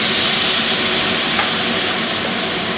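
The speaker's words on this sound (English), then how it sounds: "Now you want to carefully plop the steak in the skillet." A rib eye steak sizzles loudly in a skillet of olive oil, giving a dense, continuous hiss and crackle close by that holds steady throughout, with no talking.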